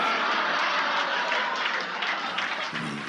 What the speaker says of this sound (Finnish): Annetaan aplodit säveltäjämestari Seaniksi perkeleelle.